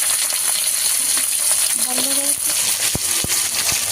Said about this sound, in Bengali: মাছটা ভাজা হয়ে গেছে, এবার তুলে নেবো।